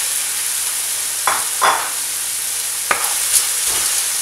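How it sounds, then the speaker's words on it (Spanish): Noodles with tomato and mackerel sizzle in a pan, a steady frying hiss punctuated by several distinct scraping strokes of stirring, close and fairly loud. "y se remueve muy bien para que todo se ligue, y así los fideos no se pegan."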